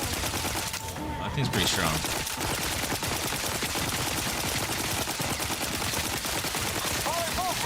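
Dense, continuous shotgun blasts and combat noise while fighting spiders in The Outer Worlds 2, loud throughout, with a person briefly talking over the shooting.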